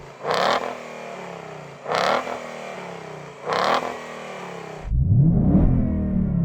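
Three sharp engine revs rise and fall in quick succession against a soft limiter, loud and close, followed by a deeper, rumbling engine note that keeps running.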